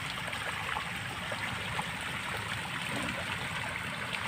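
Water flowing into a milkfish pond, a steady, continuous rushing and gurgling stream at moderate distance, with no talk.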